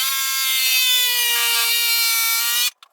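A plastic router table insert being cut with a power tool: a steady, loud, high whining saw tone runs nearly three seconds, then stops abruptly into brief near-silence with a couple of short bursts.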